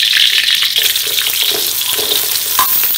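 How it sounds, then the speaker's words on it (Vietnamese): Turmeric, lemongrass and garlic stir-frying in a pan for a Mekong Delta snake porridge, a loud steady sizzle with scraping stir sounds running throughout, no voices. "mình chỉ xào cái phần nghệ với sả này trước thôi"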